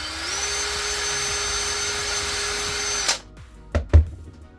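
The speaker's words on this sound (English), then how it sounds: "So all I do is I basically drill the holes," An electric drill whines steadily as it bores holes in 3D-printed parts. The run lasts about three seconds and then cuts off, followed by a couple of sharp knocks as the part is handled, close up and with no speech.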